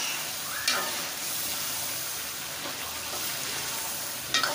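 Shinwari chicken karahi with black pepper stirred while it fries in a karahi, a constant close sizzle with soft scraping strokes and two sharper metallic clinks of the spoon.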